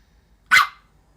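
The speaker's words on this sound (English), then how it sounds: "She wants to play and she keeps barking like that." A single sharp, loud bark from a playful dog, close by and alone against near silence.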